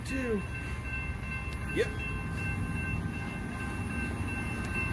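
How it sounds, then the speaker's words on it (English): A CSX freight train passes in Acworth, Georgia, with a low, steady rolling rumble. Short rising horn blasts sound near the start, and a person says one brief word over the noise. "And here comes a train."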